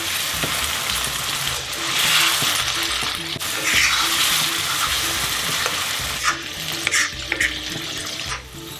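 Paneer goes into Kashmiri kadai masala in a hot pan, bringing a loud, steady sizzle and frying hiss with scraping stir strokes throughout, close and without talk.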